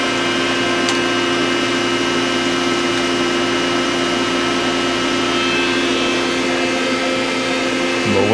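A machine tool cuts index plates for a camshaft grinder with a little coolant, a steady whirring hum with faint high tones and a brief tick early on, running continuously at close range.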